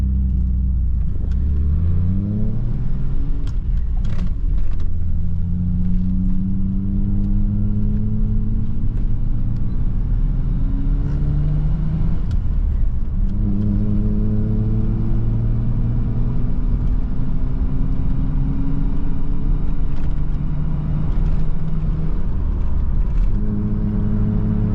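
Interior road and wind noise in a 36-year-old Nissan D21 Hardbody truck while driving, a loud steady rumble with the engine note rising and falling as it accelerates and shifts.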